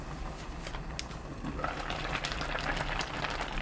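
A braise of sea lettuce and pomfret simmers in seasoning in a pot, giving a steady, soft bubbling and crackling hiss at close range with no talking.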